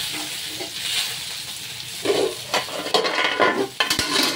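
Bananas frying in hot cooking oil in a pan for a home breakfast, a steady hiss with bursts of crackle and a few soft scrapes of stirring, close up and without talk.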